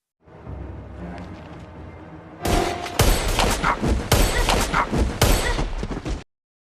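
A rapid volley of loud gunshots in an action film scene bursts out after a quieter stretch, several sharp cracks in quick succession, close and intense, then stops abruptly.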